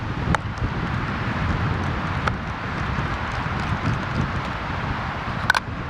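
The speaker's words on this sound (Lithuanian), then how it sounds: "O vėjas koks eina savo." Wind blowing outdoors, a steady broadband rush buffeting the microphone throughout, with a few faint clicks and knocks over it, no speech.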